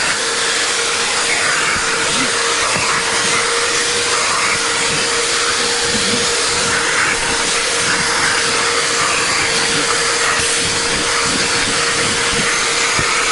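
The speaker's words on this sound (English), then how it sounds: "Also works just like a vacuum." A vacuum cleaner runs steadily with a loud whooshing hiss and steady motor whine, with intermittent scraping and rustling as it moves over car upholstery.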